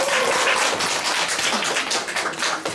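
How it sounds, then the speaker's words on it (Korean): A dense, continuous round of applause from the audience at a charity music concert greets a composer, steady and full throughout with no speech over it. "뜨거운 박수를 부탁드리겠습니다"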